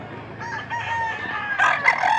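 A bullstag rooster crows once, loud and close, the call stretching and rising toward its end over steady low background noise.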